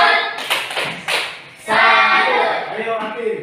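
A group claps a patterned cheer, a few quick separate claps followed by a dense burst of many hands clapping together, close and loud.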